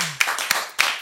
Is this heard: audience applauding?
yes